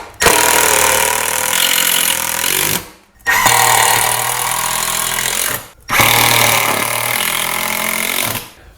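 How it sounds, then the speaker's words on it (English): Power drill boring holes into a wall while a gun wall display is installed, with three loud, sustained bursts of drilling, each lasting about two to three seconds and separated by brief pauses. "So now repeat the process for drilling the holes according to what your specs are."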